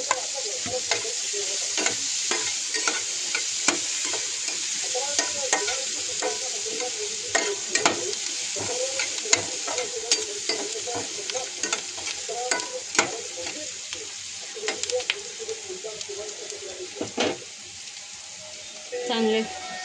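Onion sizzles steadily in a frying pan for white sauce pasta while a utensil scrapes and stirs in frequent irregular clicks, close and fairly loud, with a voice speaking faintly underneath.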